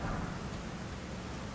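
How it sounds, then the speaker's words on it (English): Dense, steady rain hiss with a low rumbling of thunder underneath in the video game Elden Ring: Shadow of the Erdtree, continuous and even throughout, no voices. "Oh, and now it's raining."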